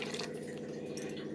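Water poured in a small, steady stream into a mixer grinder jar, a close, continuous trickling and splashing that holds even throughout with no voices.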